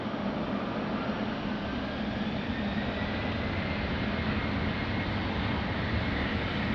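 A jet airliner takes off from runway 20 at Lisbon Airport, heard as a steady broadband engine roar, loud and continuous throughout.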